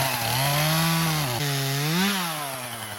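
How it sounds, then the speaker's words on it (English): A chainsaw cuts through a six-inch tree slab during tornado cleanup, its engine whining loud and close, pitch dipping under load and rising again across the cut. "So we'll grab the chainsaw."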